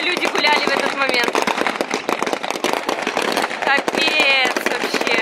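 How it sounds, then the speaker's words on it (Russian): Rapid bursts of gunfire from guns raised out of the water during naval exercises in Crimea, sharp cracks repeating densely and loud, with excited talking and shouts over them. "они чем там из воды таким шмаляют-то, а?"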